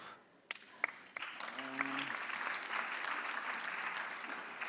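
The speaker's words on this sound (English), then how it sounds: "Let's give him another clap." Audience applause at the World Health Summit 2019 Focus Africa session, following a speaker's remarks: a few scattered claps quickly swell into steady, dense clapping that fills the rest of the moment at an even level.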